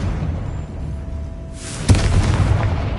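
A Confringo explosion spell goes off in a Harry Potter video game: a low hiss swells, then one sharp booming blast followed by a rumbling tail.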